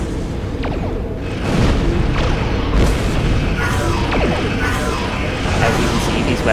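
Ship weapons firing and exploding in the space combat game Star Trek Online, a dense, loud, continuous barrage of booming blasts and zaps layered over one another.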